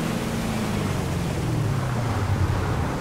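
Steady rushing river water in Fortnite's jungle setting, a continuous broadband wash with a low droning undertone, loud and unbroken throughout with no voices.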